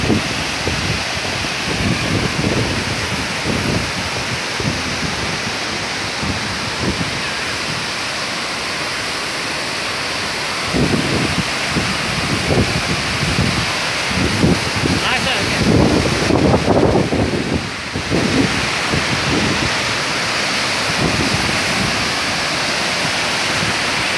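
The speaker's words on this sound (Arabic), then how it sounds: "شلالات رائعة جدا، الماء المتساقط بارد أيضا، بارد جدا." Shaki waterfall in Sisian, Armenia, roars as a constant loud rush of falling water, with heavy gusts of wind buffeting the microphone in bursts over the steady cascade.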